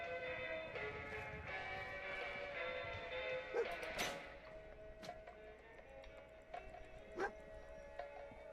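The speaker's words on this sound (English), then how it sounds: "What are you woofing at now?" Dogmeat, a dog in a survival video game, lets out a few faint, scattered woofs among quiet game clicks and a sharp crash-like hit.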